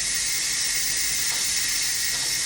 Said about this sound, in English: I'm going to press the button to release the steam.